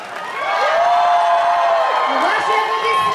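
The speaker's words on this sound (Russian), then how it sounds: "Ваши аплодисменты!" A large open-air crowd cheers and applauds at a Belarus Independence Day concert, a sustained roar of voices and clapping with whoops and a rising shout, loud and near throughout.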